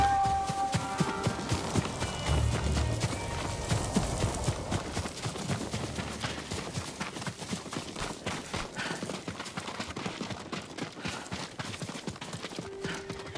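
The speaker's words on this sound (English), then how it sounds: "Horses, they're coming for us." Horses gallop in Ghost of Tsushima, a dense run of hoof clip-clops close by with an occasional whinny, steady and loud throughout, over game music and ambience.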